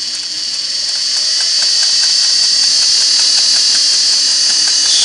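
A Singer 401A sewing machine sewing a zigzag stitch runs at steady speed, a loud, close mechanical whir with a fast rhythmic clatter from the needle, and no voices.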